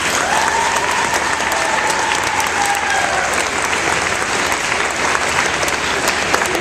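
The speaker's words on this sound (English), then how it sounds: "So just a real quick round of applause for those folks." An audience at a 2009 FIRST Robotics competition gives a round of applause, continuous crowd clapping with a few cheers, steady and fairly loud from start to finish.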